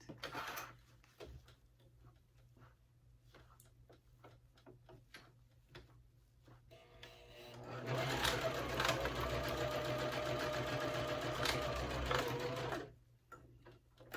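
A sewing machine stitching waterproof canvas at a 2.5 stitch length: quiet clicks and handling sounds first, then a loud steady mechanical whir of stitching for several seconds before it stops.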